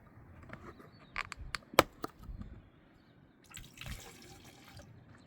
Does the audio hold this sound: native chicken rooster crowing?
no